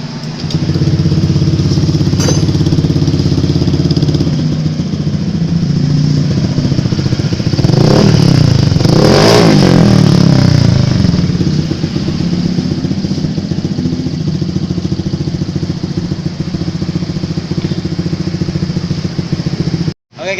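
A Honda Vario motorcycle engine running steadily after a water-spray fault was repaired, a loud close idle holding an even drone for about twenty seconds before cutting off abruptly at the end.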